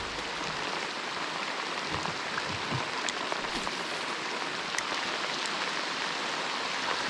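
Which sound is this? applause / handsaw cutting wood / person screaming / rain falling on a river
rain falling on a river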